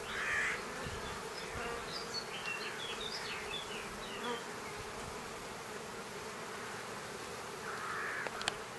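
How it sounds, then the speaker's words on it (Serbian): Bees buzz steadily around a sunflower field, a continuous close droning hum with faint crow calls and outdoor ambience in the background. "Pčele"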